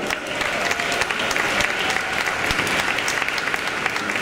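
A crowd at an evening show in Verona gives the band a loud, sustained round of applause, dense and even throughout, with a few sharper individual claps standing out.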